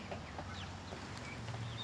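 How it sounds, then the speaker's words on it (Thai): Male turkey calling on a small Isan-style backyard farm in Thailand, a few short gobbling, clucking bursts heard at moderate distance over steady low farmyard hum and ambient noise. "ไก่งวงนี่คือลักษณะของตัวผู้นะครับผม"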